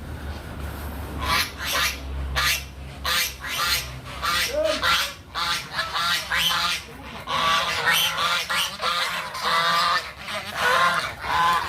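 Pet geese and other fowl honk and squawk loudly in repeated bursts near a house garden on the outskirts of Kediri, a dense chorus of calls with some voices mixed in.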